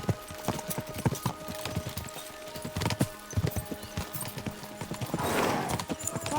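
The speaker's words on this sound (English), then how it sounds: "We should spur the horses on!" Horses galloping in the medieval game Kingdom Come: Deliverance 2, a rapid rhythmic clatter of hooves close by, with a brief snort or whinny near the end and no speech.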